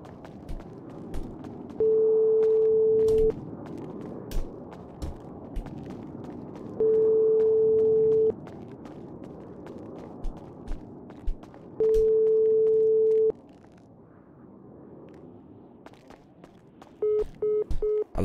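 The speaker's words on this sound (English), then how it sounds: "Why are you letting my phone call ring" Phone ringing during a call in GTA RP, four evenly spaced long ring tones over a quiet background, the last coming as shorter broken pulses.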